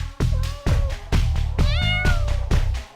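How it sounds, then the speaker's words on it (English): A cat meows loudly and close by, a rapid series of about six insistent rising and falling cries in quick succession, with no talking. "Oh, come on, kitty."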